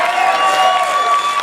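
An audience at a comedy show applauds and cheers, a loud, steady wash of clapping with whoops and shouts from the crowd rising through it.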